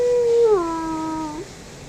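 A wolf in the Wolf Online video game lets out a single close, loud howl that starts high, slides down to a lower held tone and ends with a short upward lift, with no talk over it.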